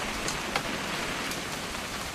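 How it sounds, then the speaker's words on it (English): Steady rain falls in What Remains of Edith Finch on a hunting trip, a constant even hiss of drops with a few brighter patters, carrying on alone without talk. "It's gonna rain the whole weekend, isn't it?"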